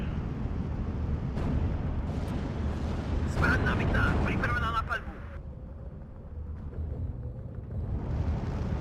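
Artillery fire in the Steel Division 2 war game at Dukla Pass, a series of deep rumbling booms and blasts building over several seconds, then fading into a lower distant roar.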